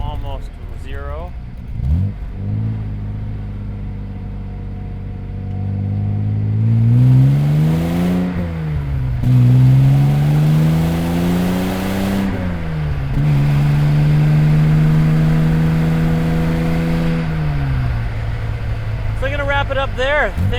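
Inline six-cylinder engine of a 1970 Jaguar 4.2 E-Type Roadster accelerating from almost standstill along a curvy road, rising through several gear changes with a loud, close, sweeping engine note as someone talks.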